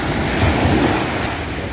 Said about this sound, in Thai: เสียงคลื่นสาดสาดเข้ามาที่ชายฝั่งขาโถมขึ้นมา ลูกแล้วลูกเล่า